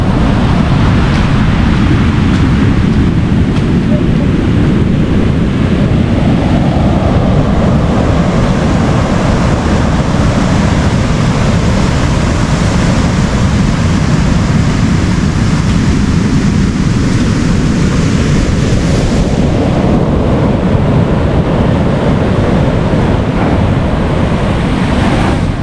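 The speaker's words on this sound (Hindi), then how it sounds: "बहुत बढ़ती जा रही है लहरें।" Rising ocean waves surge and crash steadily at Hawke's Bay beach during rainy weather, a loud continuous roar of surf mixed with wind buffeting the microphone throughout.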